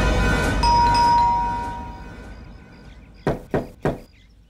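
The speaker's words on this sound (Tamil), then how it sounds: "ரஞ்சித், கதவு தரங்க." Three sharp, close knocks on a house door in quick succession, following a fading musical tone.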